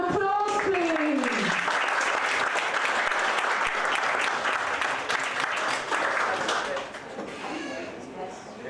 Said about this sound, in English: Can you give Vivian a round of applause, please?